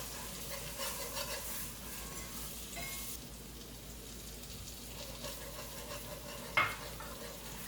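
Flour cooking down in a pan for steak marsala gives a low, soft sizzle with gentle stirring scrapes, quiet throughout, plus one brief clink near the end.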